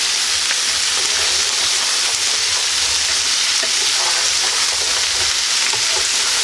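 Peppers and onions sizzle steadily in a pan of smoked sausage hash, a loud, continuous crackling fry with occasional scrapes of stirring and no voices.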